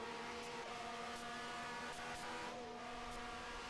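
A 1971 Formula One March race car with an Alfa Romeo engine holds a steady, droning whine with faint shifts in pitch, heard from a distance as a continuous buzz.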